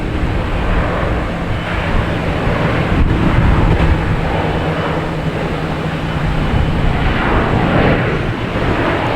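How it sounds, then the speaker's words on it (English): A JetBlue airliner landing at Boston Logan Airport roars as a loud, steady broadband rumble mixed with wind buffeting the microphone. "From on the left there is JetBlue coming in from Orlando"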